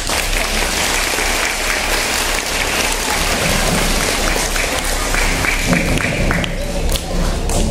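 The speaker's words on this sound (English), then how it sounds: "you can help me to welcome Hannah with a huge round of applause" An audience at Ross Doan Public School gives a big round of applause to welcome a speaker, a dense sustained clapping like heavy rain that fills the room for several seconds and thins slightly near the end.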